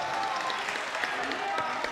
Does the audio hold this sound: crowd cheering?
yes